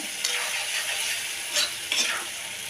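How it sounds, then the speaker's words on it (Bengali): A bowlful of onions fries in oil with a steady, close sizzle, broken by a few louder stirring scrapes near the end. "কারণ আমার পেঁয়াজটা ভাজা ভাজা করতে হবে"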